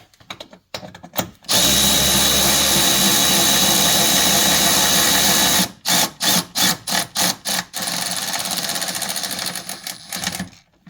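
A power tool tightens a belt tensioner bolt on a Chevy Suburban with a 5.3L engine. It runs in a loud, steady whir for about four seconds, then gives a quick series of short bursts, then one more sustained run.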